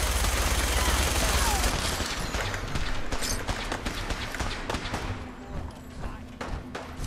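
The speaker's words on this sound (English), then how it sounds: "let's just go. Let's get fire up the freezing minigun. Why am I firing?" A freezing minigun in Fallout 4 spinning out a continuous, loud stream of rapid-fire shots, dense at first and thinning slightly into a rattling, stuttering burst toward the end.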